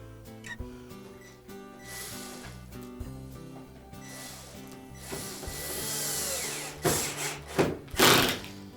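Retaining screws are driven into the plastic inner door panel of a Frigidaire dishwasher, giving close whirring and grinding bursts broken by scraping and knocking handling noises, with no talking.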